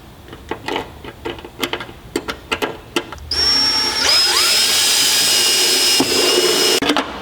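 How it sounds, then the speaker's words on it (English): Power drill boring a hole in the body of an all-wheel-drive K-series wagon, preceded by a run of sharp clicks and taps, then a loud, steady high whine that holds for several seconds. "So when drilling your hole, offset it just enough to where it clears all that."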